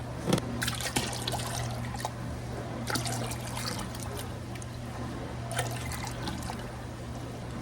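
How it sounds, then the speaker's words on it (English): Water pours steadily into a large pot holding canning jars, a continuous close trickle and splash with a few brief knocks of the jars, with no talk. "I have to add a little bit more water in because I need at least 1 inch of water above the tops of the jars."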